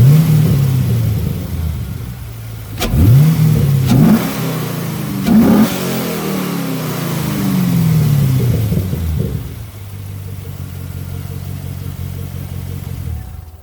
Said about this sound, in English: Let me go in there and give you a rev or two.